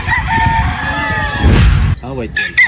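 A gamefowl rooster on a farm in San Pablo crows, one long call that rises and falls against a steady outdoor background. Clucking and chatter from other birds follow near the end, fairly close to the listener.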